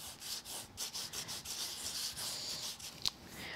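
Gilding polish is rubbed by hand over an embossed die cut card, making soft, steady rubbing strokes in a quick, even rhythm, close and faint, with no voices.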